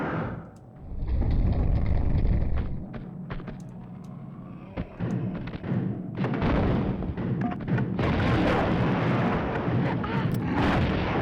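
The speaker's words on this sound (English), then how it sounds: "let's try this with the grenade launcher here" Grenade launcher blasts in the Tomb Raider 2 video game, loud booming explosions that come one after another with rumbling tails and mechanical clatter between them.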